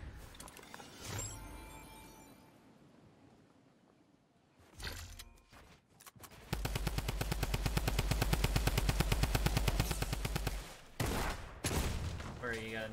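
Gunfire in a Fortnite battle royale match. Scattered shots give way to a long, loud burst of rapid automatic fire lasting several seconds, followed by a few more bangs, with game noise and a voice talking in between.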